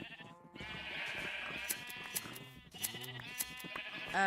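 Sheep in the video game Minecraft bleat repeatedly in short, wavering calls over a steady in-game background, several clear bleats spread across the span with a louder burst at the end.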